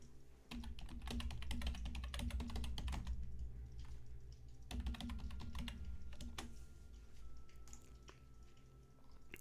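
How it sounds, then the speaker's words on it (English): Rapid typing on a computer keyboard into a chat, close and steady, with dense clusters of key clicks in two main bursts and lighter tapping after, over a faint room hum with no talking. "So there, I just typed that one in."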